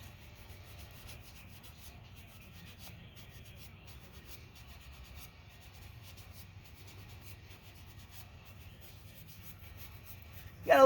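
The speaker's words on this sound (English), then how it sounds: "whether you're using a sponge or the hex grip applicator, you can get pretty good into these lugs" A sponge applicator works tire dressing into the lugs of a tire outdoors, making faint, soft, repeated rubbing and scrubbing strokes. A louder bump comes right at the end.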